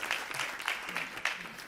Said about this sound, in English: Let's give the guys a hand.